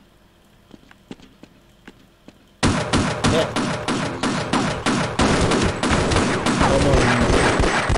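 A grenade going off in GTA 4's Ballad of Gay Tony expansion: after quiet game ambience, a sudden loud burst erupts into a rapid string of sharp, crackling impacts, with a voice briefly muttering a curse.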